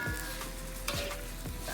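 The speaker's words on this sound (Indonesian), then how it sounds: "Ini juga kita aduk tumis bakso dan kacang kecipir" Winged beans and jengkol are stir-fried in a pan with a continuous sizzle, broken by a few distinct scraping stirs of a utensil against the pan.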